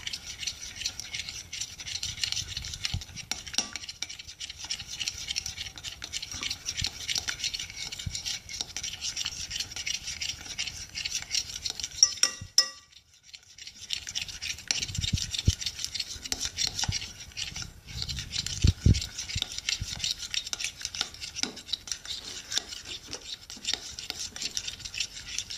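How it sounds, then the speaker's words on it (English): Bubble gum slime is stirred in a container, making a steady, faint scraping and squelching rub that continues for most of the span, with one brief pause midway. "Okay, so now I'm going to give this a good stir up."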